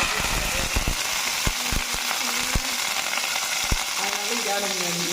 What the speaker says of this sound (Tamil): அதுக்கப்புறம் கடுகு பொறுத்து வச்சுங்க